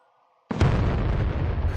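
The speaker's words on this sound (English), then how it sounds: "Why is there such explosions out there" Explosions going off outside, a sudden loud boom that bursts out of silence and rolls on as a dense rumbling blast, with no talking.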